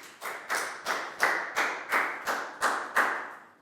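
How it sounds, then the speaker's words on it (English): Classmates clap for a pupil in a Year 4 English lesson, about eight evenly spaced, moderately loud thumping claps in a steady rhythm, with no talking over them. "a big round of applause for Chu"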